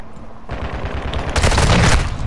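Rapid bursts of gunfire from a Call of Duty video game crackle loudly and continuously, building into a dense barrage of automatic shots.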